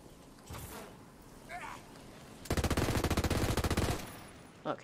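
Rapid automatic gunfire rattles in a video game, a loud, steady burst of evenly spaced shots lasting about a second and a half, preceded by softer scattered sounds and ending with a single later shot.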